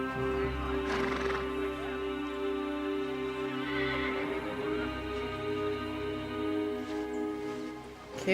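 A horse whinnies and snorts in the medieval video game Kingdom Come: Deliverance II, the neighs close and clear over a droning musical score, with a few hoof sounds.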